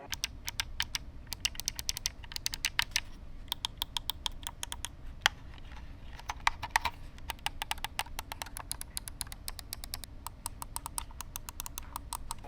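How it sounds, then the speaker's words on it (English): Rapid, crisp plastic clicks in irregular bursts from a Razer gaming controller's mouse-click-style buttons, close up and fairly loud, pressed quickly over and over with no talking. "all of the buttons feel really nice as well. There's like a mouse click to them"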